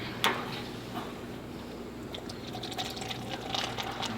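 Beer pours into a cup with a quiet, continuous liquid trickle and faint fizz, low and close, with no talk.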